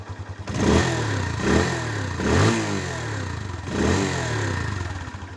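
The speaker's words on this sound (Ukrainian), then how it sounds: "Зараз дам газу." A Loncin JL150-68 CR1 150cc motorcycle engine revs up several times in a row, each throttle blip rising and falling back to idle, close by.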